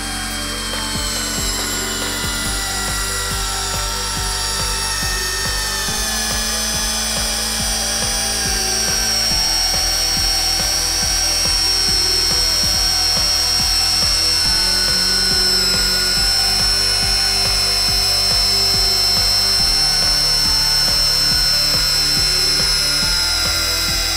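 A Metabo 12V cordless drill driver whines steadily as it sinks a long screw, a loud, close, continuous motor drone with shifting pitch and no talk.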